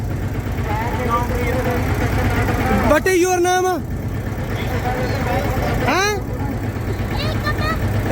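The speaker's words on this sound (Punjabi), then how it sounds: "ਇਹ ਛੋਟਾ ਟਰੈਕਟਰ ਹੈ 53 ਚਾਸਾ ਬਹੁਤ ਸੋਹਣਾ ਟਰੈਕਟਰ ਆ" A small tractor idles steadily at a tractor pulling contest, its low engine hum running under close, loud voices talking throughout.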